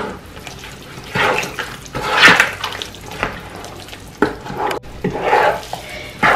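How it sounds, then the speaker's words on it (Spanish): Tamale masa is stirred with water in a bowl, giving wet, squelching sloshes in uneven bursts, loud and close, with short quiet gaps between strokes and no voices. "Primero le voy meneando."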